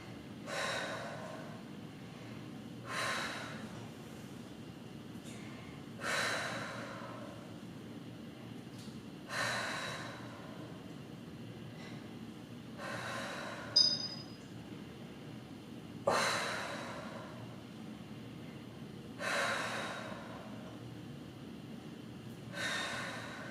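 Heavy, rhythmic breathing during a dumbbell upper-body workout: forceful exhales and snorting gasps repeat roughly every three seconds, close to the microphone, over a low background hum.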